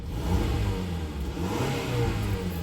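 A 2011 Mazda CX-7 2.5L engine with over 350,000 miles revving up, a loud, close mechanical roar that swells and eases in steady surges with no talking over it.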